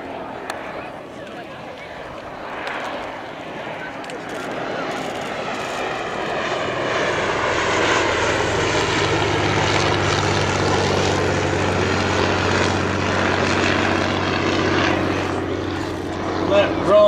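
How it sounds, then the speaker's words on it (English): A Bristol F2.B Fighter biplane's 275 horsepower Rolls-Royce Falcon III V12 engine drones loudly and steadily, swelling into a deep, throbbing roar that holds for several seconds. "The magnificent sound comes from a 275 horsepower Rolls-Royce Falcon III engine."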